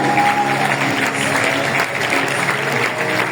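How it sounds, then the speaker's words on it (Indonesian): Steady applause from a seated audience at a seminar session, many hands clapping in a dense, even roar that stays loud throughout, with a faint voice briefly audible at the start. "mari beri tepuk tangan untuk para Diamond."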